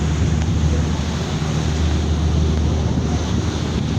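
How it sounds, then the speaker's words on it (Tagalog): Strong sea waves rolling near Calapan port in Oriental Mindoro as a ferry approaches, a continuous heavy wash and rumble with wind buffeting the microphone, steady and loud throughout. "Malakas na ang alon, oh."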